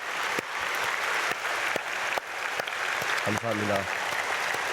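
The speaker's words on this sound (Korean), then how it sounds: "박수하겠습니다." A church congregation at an early-morning prayer service applauds the children. The clapping is broad and even and carries steadily for several seconds, while one voice briefly speaks near the end.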